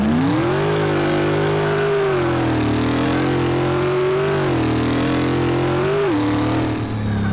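A supercharged V8 Rino Piccolo engine in Car Mechanic Simulator 2018 roars loudly and steadily, its pitch climbing and dipping through several rev swells before easing off near the end.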